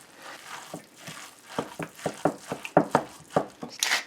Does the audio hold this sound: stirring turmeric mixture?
yes